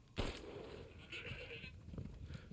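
Goat enemy in the video game Resident Evil 8 (Village), a sharp loud bleat-like burst at the start followed by scuffling game sounds and a softer cry, with faint background noise.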